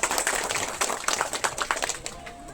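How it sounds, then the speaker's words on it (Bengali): An audience at a blood donation camp in Sadaipur claps together to welcome a donor, a brief burst of dense, close applause that thins out toward the end. "সকলে মিলে একটু জোরে হাততালি দিয়ে তাকে সংবর্ধনা জানাবেন"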